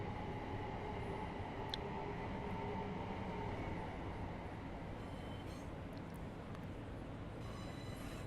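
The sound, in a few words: Class 375 train running in Train Sim World video game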